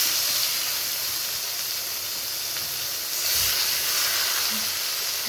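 Spice paste hits hot oil in a pan for a mango fish curry, giving a continuous broad sizzling hiss that stays fairly even and swells slightly partway through, with no talking.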